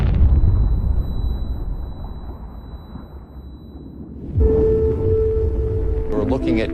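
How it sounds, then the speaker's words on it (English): A gas explosion on an offshore oil drilling platform sounds as a deep, rolling rumble that fades. A second sudden burst then lifts the level, carrying a sustained tonal roar. "Oil and gas escapes from the wellhead and rushes up to the platform, where the gas explodes."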